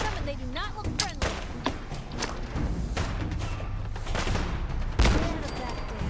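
Gunfire and grenade blasts in Fallout 4 combat, a busy stretch of sharp shots and heavy thuds with a big explosion near the end, loud and close, broken by bursts of voice.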